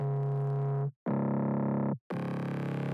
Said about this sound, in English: Now, the mid bass.